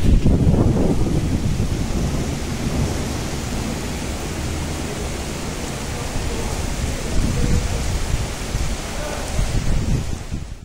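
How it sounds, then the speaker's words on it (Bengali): Heavy rain falls during a storm at Dongargarh, Chhattisgarh, a dense, steady wash with gusting wind roaring across it. No distinct thunderclap stands out. "কিন্তু আবারও শুরু হয়েছে ঝড়, আর সাথে আবারও বৃষ্টি।"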